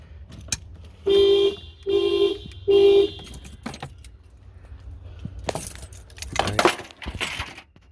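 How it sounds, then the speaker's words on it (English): A Toyota Prius alarm sounds three loud, even honking tones about a second apart, followed by key jangling and clicks of a keychain remote nearby. "the alarm stopped going off"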